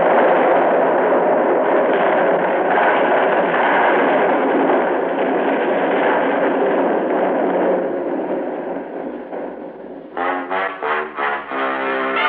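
A radio-drama explosion effect: a sustained loud roaring rumble that fades out, followed by a few rhythmic pulsing bursts near the end, with no talk.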